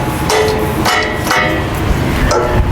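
A wing nut popped off the deck cover of a Scag stand-on mower, with several sharp metallic knocks and clicks in quick succession, close and loud over an outdoor background.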